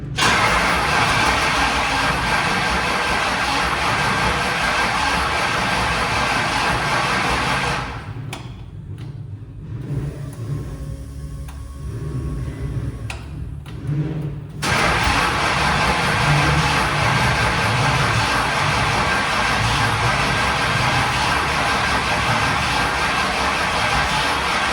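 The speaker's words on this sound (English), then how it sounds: "So I'm cranking it over, trying to make sure it has oil pressure before it does fire." A 1966 Ford F100 with a Crown Victoria engine swap being cranked over on the starter without firing. The steady, loud cranking runs continuously, drops away for several seconds midway, then resumes.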